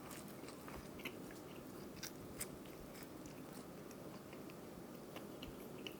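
Someone bites and chews a messy stoner sandwich loaded with onion rings and onion bread, giving faint close crunches and soft wet chewing with a few sharper crackles, no talk.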